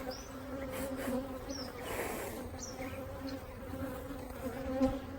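Honeybees humming steadily around an opened beehive during a summer hive inspection, a dense close buzz with individual bees droning past now and then.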